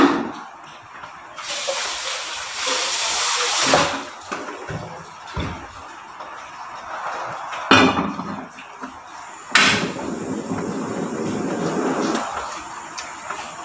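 Doke, a fried dough for toast, crackles in a hot pan for breakfast, giving a steady loud sizzling hiss that swells and fades with a few sharper bursts and clatters.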